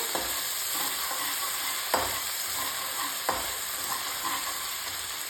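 Coarsely crushed garlic and ginger fry in oil over a medium flame for a pickle, giving a steady close sizzle with a few sharp stirring scrapes and no talk.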